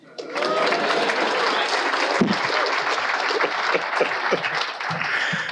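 Audience applause at a talk on US media in crisis, a broad sustained burst of clapping that rises quickly and holds, mixed with a few shouts and cheers.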